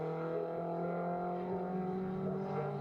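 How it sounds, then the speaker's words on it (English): A BMW Compact Cup race car at Knockhill circuit, its engine droning steadily at high revs throughout as it powers down the track, loud and sustained with a strong harmonic tone. "That car sounds brilliant, Steven Dailly."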